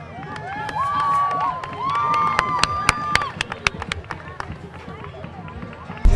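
Elementary and middle school children cheering and shouting together with high school students at a school rally, a lively crowd of young voices with bursts of chanting, some sustained high calls and sharp claps.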